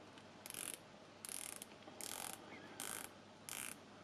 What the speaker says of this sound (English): Nice bezel action.